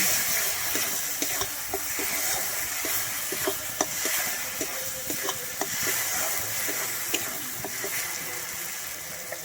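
Salt and turmeric are stirred into fish curry spices for doi katla, with a steady sizzle and regular light scrapes of a spoon against the pan.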